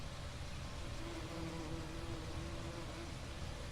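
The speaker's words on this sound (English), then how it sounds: "Let's listen for the bees." Bees buzz in a continuous, faint drone with a steady hum running through it, with no pauses.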